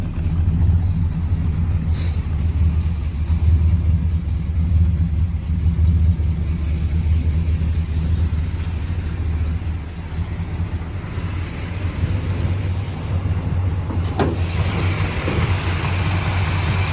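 A Chrysler 300 drag car with a U-code engine and aftermarket mufflers idles steadily, a deep continuous low hum held close for the whole stretch with a brief faint rise near the end.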